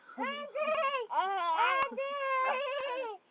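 A chubby baby cries in several bursts of wailing separated by short catches of breath, close and fairly loud, with no other voices.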